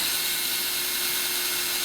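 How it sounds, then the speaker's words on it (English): A steady, loud whirring drill starts a pilot hole while building an AT-6 Texan, running continuously with a constant high-pitched mechanical whine and no pauses. "A little pressure just to let it start drilling."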